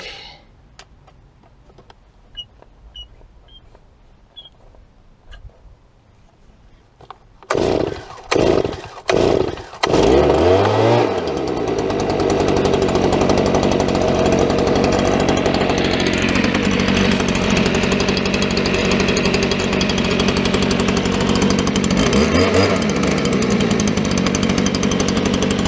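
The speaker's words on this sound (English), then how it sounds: "We're going to be starting up my 2011 Stihl BG86 stratified charge 27cc with semi-automatic choke." A 2011 Stihl BG86 27cc stratified-charge leaf blower with semi-automatic choke is started cold: light ticking, then several sharp pull-start bursts, then it catches into a loud, steady high-pitched roar with a couple of brief revs.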